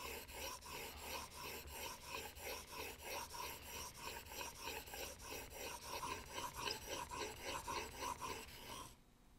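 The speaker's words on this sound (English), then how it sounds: "Now I'll hone the bevel surface, starting with my 1500 grit stone and working through the grits." A hand plane blade's bevel is honed on a 1500 grit whetstone in steady back-and-forth strokes, a close rhythmic rasping scrape that repeats evenly and stops abruptly at the end.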